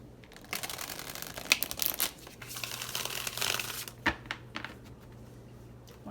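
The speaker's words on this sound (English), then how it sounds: "One more shuffle and then we will pull Pile 1's person." Tarot cards being shuffled by hand during a card reading, a run of close, crisp riffling and flicking bursts with short pauses between them, no talking.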